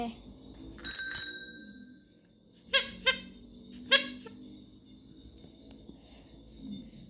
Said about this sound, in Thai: มันมีกระดิ่ง